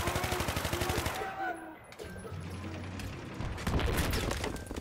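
Automatic gunfire in Battlefield 3 multiplayer on PS3, with rapid rattling bursts at the start and again near the end, mechanical clicks and game noise in between, fairly loud and close.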